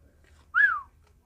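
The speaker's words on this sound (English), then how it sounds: "I can whistle." A person gives one short, clear whistle, a single rising-then-falling note close by in otherwise quiet surroundings.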